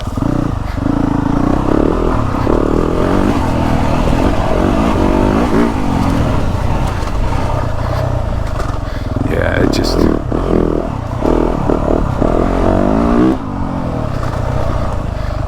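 A 2023 Yamaha YZ450F dirt bike, tuned by RideWorx, roars loud and close with its engine revving and rising and falling continuously, while a voice talks over it.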